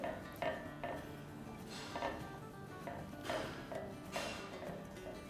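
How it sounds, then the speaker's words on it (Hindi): Metal spoon clinking and scraping against a pan while stirring malai kunafa mixture, a steady run of light taps and scrapes at close range, with no talking. "तो बस इसे 1-2 मिनट तक इस तरह से चम्मच चला के कुक कर लेंगे"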